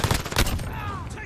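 Gunfire in an online console shooter, a quick volley of close shots followed by a brief whistling streak, loud and dense over a short span.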